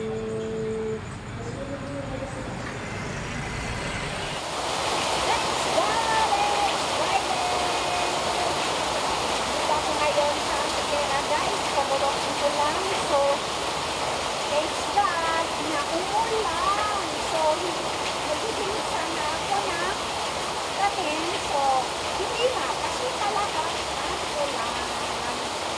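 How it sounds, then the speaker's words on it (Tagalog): Heavy rain pours down steadily, a dense, even hiss that starts abruptly after a few seconds of quieter background and continues loud and unbroken, with scattered droplet patter throughout. "yung ulan ko. Lakas. Lakas talaga"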